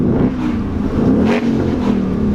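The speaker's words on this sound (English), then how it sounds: "just listening to this V8 behind the exhaust that I have" A deep V8 engine of a 2016 Ford Mustang GT Performance Pack rumbles and revs through the exhaust, loud and close, with the pitch rising and falling briefly.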